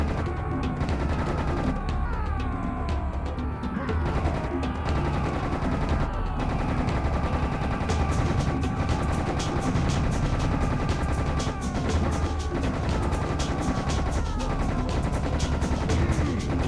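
Dense, relentless gunfire from Serious Sam: The Second Encounter fills the scene, with rapid overlapping shots, bursts and crashes rattling on nonstop, loud and up front.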